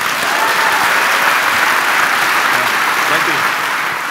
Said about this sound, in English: Please give a warm applause for the director, Koen Mortier.